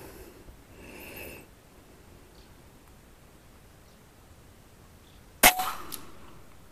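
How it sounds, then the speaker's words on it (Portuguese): One crisp, close air rifle discharge with an FX Liner barrel cracks out abruptly during high-power accuracy shooting, then rings off quickly against a low, steady outdoor background. "Terceiro disparo."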